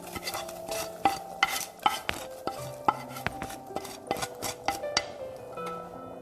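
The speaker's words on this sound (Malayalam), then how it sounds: "ഒന്ന് നന്നായിട്ട് ഇളക്കി കൊടുക്കാം." A spoon scrapes and knocks around a pot of roasted-coconut kadala curry in a Kerala kitchen, a quick series of close metallic clinks and taps in an uneven rhythm, with no talk.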